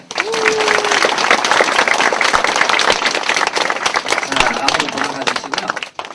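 A room full of people at a company New Year opening ceremony claps steadily for several seconds, a dense, even burst of applause that fades out at the end.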